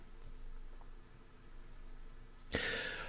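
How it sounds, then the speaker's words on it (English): A single sharp, harsh cough bursts out near the end after a stretch of quiet room noise, close and loud. "I try not to have this dry cough in me again."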